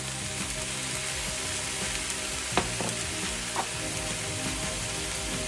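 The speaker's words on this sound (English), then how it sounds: "start stirring those around, get them all nice and coated." Mushrooms sizzle and fry steadily in a hot pan while being stirred and coated, a constant crackling hiss with a couple of soft utensil scrapes against the pan.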